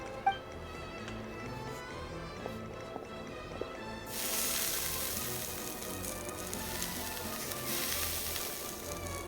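Intense searing sizzle of fish and mushrooms cooking on hot armor in the Genshin Impact game, a steady frying hiss that suddenly swells louder about halfway through and stays dense to the end, with no talking.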